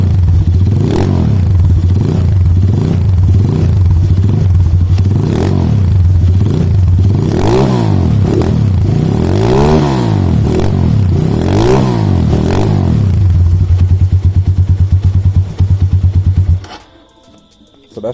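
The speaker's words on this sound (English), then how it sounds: "I'm going to give it a few revs so that you guys can hear how it sounds." A 2019 Supra 250 Racing Edition single-cylinder four-stroke motorcycle is revved repeatedly, engine note climbing and falling in several loud surges over a steady idle, then cutting out abruptly near the end.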